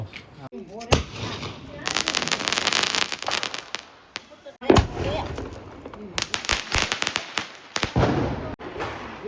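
Loud firecrackers, including big bombs, burst repeatedly in rapid crackling volleys close by during Dhanteras, with people talking and calling out between the blasts.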